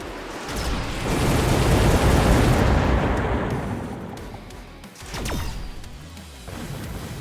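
Fire attack burning units in the Mechabellum robot warfare video game: a loud roaring, crackling burst that swells for a few seconds, fades, then flares again with sharp impacts before settling into a lower rumble.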